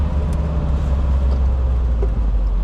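A 1973 VW Thing rolls along in second gear, its engine giving a low, steady drone with road noise in the background, close and constant throughout.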